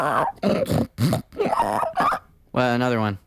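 A voice imitates a pig, with short grunting vocal bursts followed by one longer, tonal oink-like squeal at the end, loud and close.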